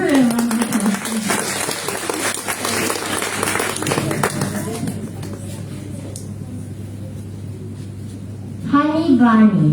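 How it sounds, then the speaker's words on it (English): Audience applause for a child poet at a book launch, a dense burst of clapping that fades out, then a voice speaks near the end. "Give her a round of applause, please."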